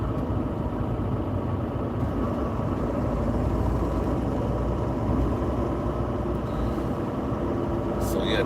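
Steady, continuous rumble of highway traffic on Interstate 4 in Orlando at dusk, with engine drone, constant and moderately loud throughout.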